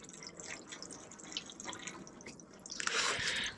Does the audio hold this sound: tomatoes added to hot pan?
no